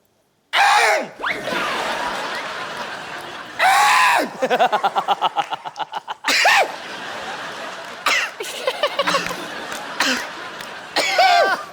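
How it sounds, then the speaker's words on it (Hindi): A woman makes loud, strained throaty rasps and coughing noises in bursts, with stuttering gasps between, close and harsh. "आप कब तक गला साफ करती रहेंगी?"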